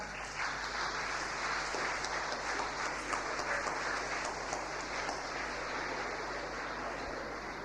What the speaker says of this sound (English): So you must give a clapping to her.